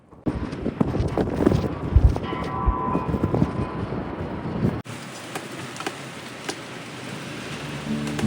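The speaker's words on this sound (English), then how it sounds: "The rain and the wind are coming in hot" Wind and rain sweep across an outdoor construction site where an enclosed porch is being framed, a steady broadband rush with gusting bursts, loud at first and then dropping to a quieter, even hiss partway through.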